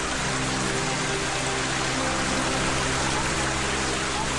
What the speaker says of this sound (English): in the Balkan Mountains, rivulets quickly become raging streams